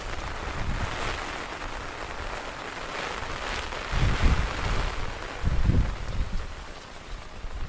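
Steady heavy rain pours over a surface with gusts of wind buffeting the microphone, two stronger blasts rising partway through, during a rainy-season storm in a village.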